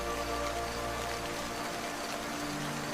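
Steady cartoon rain falls on surfaces nearby, a dense, even patter with no voices.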